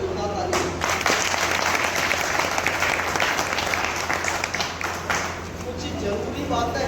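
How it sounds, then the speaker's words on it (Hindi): An audience at a company gathering gives loud, sustained applause, with dense clapping filling the room steadily for several seconds while voices mix in underneath. "जितने भी हमारे पुराने एसोसिएट इनके लिए एक बार जोरदार ताली"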